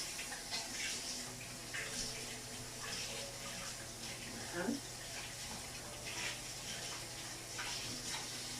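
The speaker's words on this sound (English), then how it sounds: "Just gonna wash my hands." A kitchen sink tap runs steadily while hands are washed during dinner cooking, a soft continuous water hiss with faint clatter throughout.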